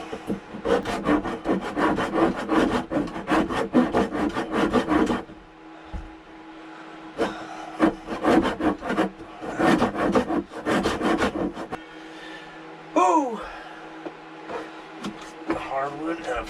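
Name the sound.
fine saw cutting hardwood for a boat frame repair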